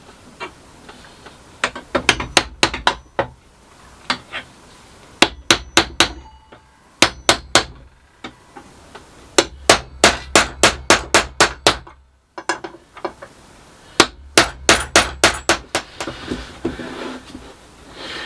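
A hammer taps a rivet on a wobbly stool to tighten it, in sharp close bursts of rapid strikes separated by brief pauses, loud and ringing, with no talking.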